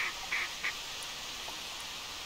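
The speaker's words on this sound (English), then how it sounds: "Yeah, all that noise is coming from that one duck." Gadwall duck in theHunter Classic hunting game, giving a few short nasal quacks in quick succession early on, then quiet outdoor ambience with faint distant calls; moderately near, no talking.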